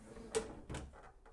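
A plywood drawer with raw-cut edges slides open in a quick, close, dry scrape and bump, followed by a second softer sliding rub and a faint knock.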